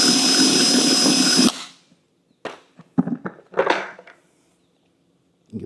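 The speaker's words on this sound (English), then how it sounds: "this is a 1/4 inch drill" A drill boring a 1/4 inch hole for a DIY wash bucket dolly handle, a loud, whining buzz that cuts off sharply after about a second and a half, followed by scattered clunks and knocks.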